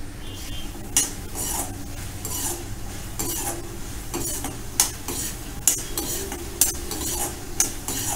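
Onion being stirred and sautéed in a pan over a raised gas flame, a steady sizzle with repeated scraping strokes of a spoon against the pan, fairly close and alone.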